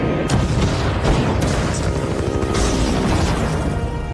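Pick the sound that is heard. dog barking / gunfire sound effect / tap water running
gunfire sound effect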